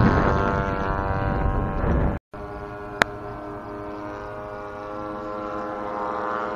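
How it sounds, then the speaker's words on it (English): Radio-controlled model warbird airplanes flying over a grass airfield beside a cornfield, a loud steady engine drone with harmonic whine that drops out for an instant and resumes, one sharp click partway through. "You can see all the planes that are here. There's tons of them flying all over the place."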